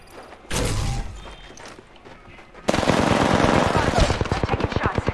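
Gunfire in Apex Legends: a short burst of shots, a pause, then a long rapid machine-gun stream of evenly spaced loud reports, with a voice briefly heard.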